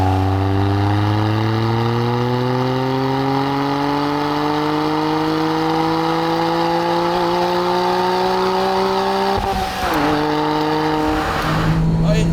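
An HKS-tuned Liberty Walk Honda S660 kei car engine drones loudly from close by and climbs slowly in pitch under steady throttle. A brief gear-change dip follows, then it pulls again.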